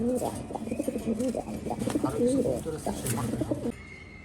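A female pigeon of a tall, high-necked breed coos in a continuous run of rolling, throaty phrases at close range for several seconds, then falls quiet.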